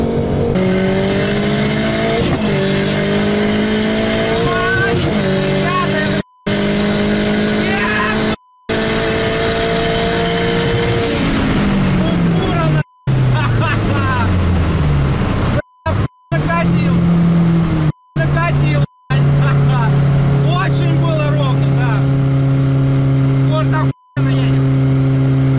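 A VAZ 2106 fitted with a Toyota 3S-GTE turbo engine accelerating in a drag race, engine pitch rising and dropping at gear changes over a long run, loud and close, with people talking throughout and brief dropouts.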